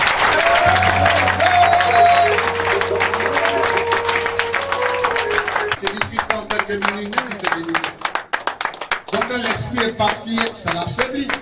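A church congregation breaks into sustained applause to acclaim the Lord. Dense clapping fills the room alongside a held organ or keyboard tone, then loosens into scattered, uneven claps.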